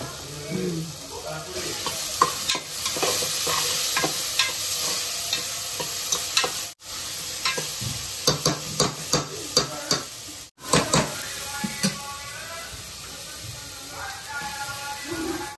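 Turmeric and ginger-garlic paste fry in a pan for country chicken curry, with a constant loud sizzle broken by repeated scraping strokes of a stirring spoon and two brief cuts.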